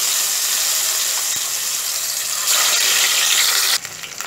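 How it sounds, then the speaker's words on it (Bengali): Fish pieces frying in a wok of heated mustard oil give off a steady, hissing sizzle that swells partway through, then drops abruptly in the final half second. "এবার মাছগুলোকে আমি ভেজে নেব।"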